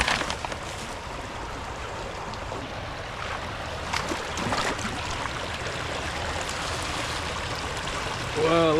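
Creek water flowing in a steady, close rushing wash that runs unbroken throughout, with a brief louder swell near the end.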